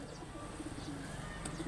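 Pigeons coo softly in a low, repeated murmur, a few calls rising faintly over a steady background hiss, with no one talking.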